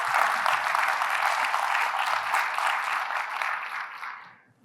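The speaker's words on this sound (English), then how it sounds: "Give a round of applause for all of these." Audience applause at a welcome session of a meetup event, a dense, steady wash of clapping hands that holds evenly for several seconds before fading away near the end, with no voices over it.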